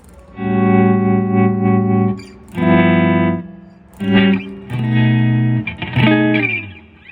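Electric guitar through a 1983 Fender Princeton Reverb II amp with a 12-inch speaker, played loud with a distorted, reverb-washed tone in sustained chords and short bursts, separated by brief pauses.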